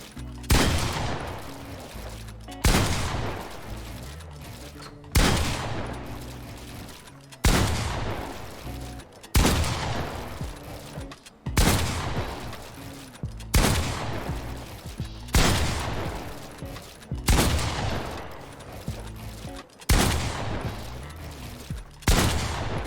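Gunfire in the video game Fortnite: about nine loud, sharp shots spaced a couple of seconds apart, each with a short ringing tail, close and dominant with no talking.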